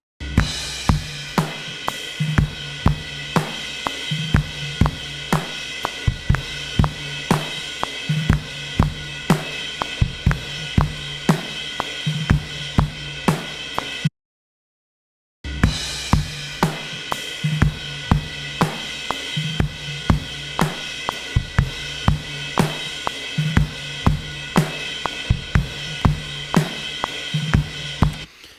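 Recorded drum performance with punchy kicks and snare hits in a steady groove, briefly cutting to silence midway before resuming.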